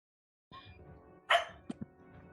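A dog gives a few short barks nearby, a sharp loud one followed by two quicker yips, heard faintly in the background of a tabletop Dungeons & Dragons game session.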